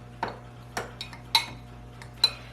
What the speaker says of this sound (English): I'll get them with my fork and kind of stir this around